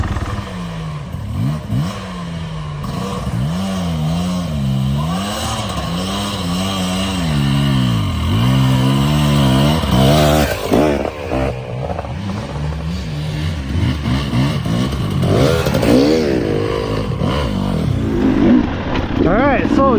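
A dirt bike engine pulls away from a trailhead at Long Lake near Cadillac, Michigan on autumn single track, revving and rising in pitch through the gears, loud and close throughout.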